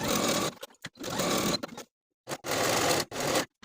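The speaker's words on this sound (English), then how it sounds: "I'm going to use my serger to finish from the top of the pant to just below the bottom of the pocket" Serger running along a pant pocket seam in several close, loud bursts of fast whirring stitching, separated by short pauses.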